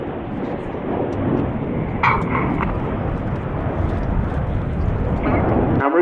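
Continuous loud jet roar of display aircraft rolling at about 3,000 feet during an aerobatic team display at the RIAT airshow, a broad steady rumble with no break.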